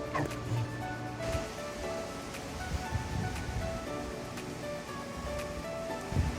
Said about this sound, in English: It's a very breezy day today. Ooh, look at that wind.